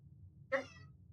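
A single short video-game cat meow, clear and close, rising briefly out of a quiet low hum.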